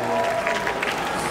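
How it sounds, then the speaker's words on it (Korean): Brief applause from a late-night concert audience greets a Korean singer. The clapping is even and moderately loud, with a host's voice faintly in the mix. "다시 한번 박수 부탁드리겠습니다"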